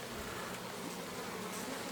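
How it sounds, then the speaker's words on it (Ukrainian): A full bucket of honeybees in cold weather gives off a steady, dense buzzing hum that stays constant and close throughout, with no voices. "Повне відро бджіл."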